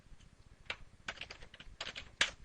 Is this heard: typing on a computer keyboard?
yes